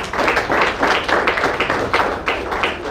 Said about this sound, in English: Once again, please let's give him a round of applause.